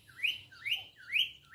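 A pet bird sings indoors, giving a series of four quick rising whistled notes at a steady rhythm, clear and fairly close against a faint background hum.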